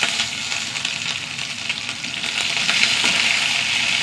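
Curry leaves fry in hot oil alongside sliced onion and two dried red chillies, a loud, close, continuous crackling sizzle with bursts of spattering and no voices.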